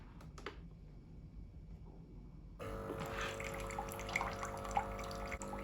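Tap-like running water from a Tommee Tippee Perfect Prep Machine during its cleaning cycle, starting partway through as a steady close stream with faint dripping before it.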